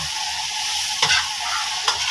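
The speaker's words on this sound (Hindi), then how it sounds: "थोड़ा सा फ्राई हो जाएगा, फिर हम इसमें डालेंगे कैबिज" Onion and two green chilies fry in hot oil for chicken chow mein, a steady loud sizzle broken by two scraping stirs of the pan.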